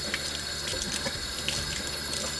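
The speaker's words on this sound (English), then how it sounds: "I turn the water on" Tap water runs steadily into a sink as a Berkey water filter is held under the stream, a close, continuous splashing rush with no talk.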